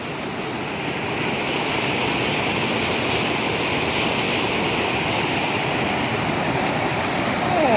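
A waterfall in Lamam district, Sekong province, southern Laos, roars with a steady, dense rush of falling water that fills the air without a break.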